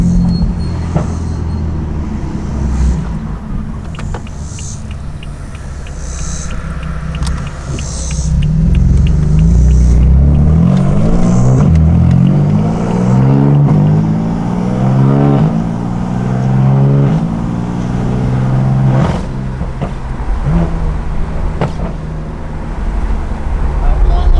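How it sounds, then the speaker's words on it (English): A tuned BMW M4 engine turns over and catches, then revs up and down with a deep, loud rumble close by. "I am going to start it and take it on a quick test drive"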